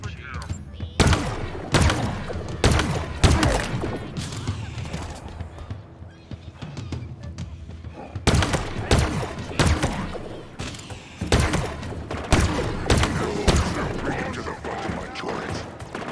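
Rapid volleys of stalker rifle fire in Halo Infinite, loud sharp cracks arriving in bursts over game mechanisms and thuds, with a voice talking at times.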